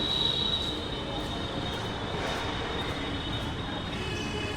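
A metro train at Dakshineswar station in Kolkata rolls past with a steady rumble and a thin, sustained wheel squeal, heard alone and fairly loud throughout.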